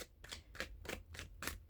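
Tarot cards being shuffled by hand: a few quick papery riffles and snaps in an uneven rhythm, close and fairly soft, with no talk.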